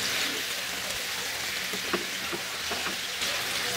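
Chicken tikka seek kebabs frying in a little oil over medium-high heat, a soft, even sizzle with a few faint crackles and stirring touches, quiet and steady with nobody speaking.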